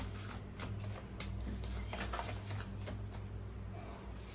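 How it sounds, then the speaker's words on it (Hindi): Tarot cards being unfolded and handled, a soft continuous papery shuffling and flicking with faint crisp rustles over a low steady hum, fairly quiet and close. "ये कार्ड अनफोल्ड हुआ है, देखते हैं।"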